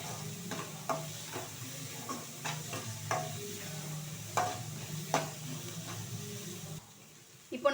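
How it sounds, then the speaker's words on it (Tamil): Onion, ginger, garlic and green chilli sauté in a little oil for a prawn and egg dish, a low sizzle broken by regular spoon scrapes and taps against the pan, close by and with no talking. "இப்போ நம்ம போட்ட வெங்காயம் இஞ்சி பூண்டு எல்லாமே பச்சை மிளகாலாம் நல்லா வதங்கிருச்சு பாருங்க."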